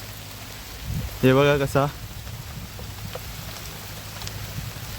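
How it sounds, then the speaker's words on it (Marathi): Heavy rain falls steadily on an open farm field, a continuous soft hiss throughout, with a short spoken remark briefly rising above it. "आम्ही इथे थांबलोय कारण पाऊस जास्त आलाय"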